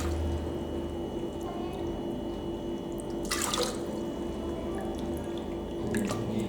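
Water pours onto wheat in a pressure cooker as a soft, steady splash with one brighter burst of pouring midway, close and fairly quiet, and no talk.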